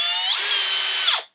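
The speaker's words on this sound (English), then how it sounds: "So then you'll get the drill bit started." A power drill with a 1/8 inch bit bores into a sump pump discharge pipe in a basement, a steady high whine running about a second before winding down abruptly, close and alone.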